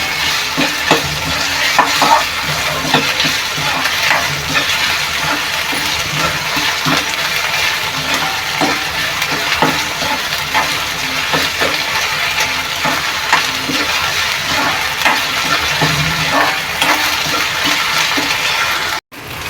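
Finely chopped onion frying in a pan for a dried Bombay duck masala, a continuous close sizzle with intermittent stirring scrapes that runs steadily for nearly twenty seconds before cutting off abruptly.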